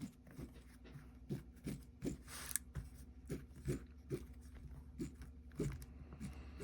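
Pinking shears snip through denim in a steady series of close, crisp crunching cuts, roughly one every half second, with no talking.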